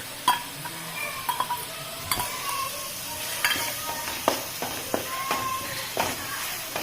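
Coconut and coriander paste sizzles and fries in a pan for fish curry, a soft steady hiss broken by the scrape and clink of a spoon stirring against the metal.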